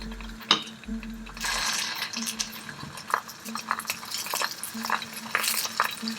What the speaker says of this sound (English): press with a spatula to make them golden and crispy